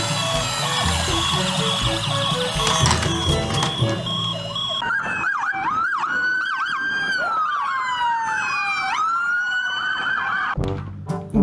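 A toy police car's electronic siren wails alone, loud and close, over about eleven seconds, with a sustained two-tone whoop and repeated up-and-down sweeps.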